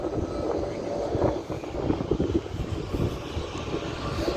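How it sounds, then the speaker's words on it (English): Steady outdoor wind buffeting and rumbling across the microphone in downtown Wilmington, a constant low roar with gusty swells throughout. "A little windy today, not bad."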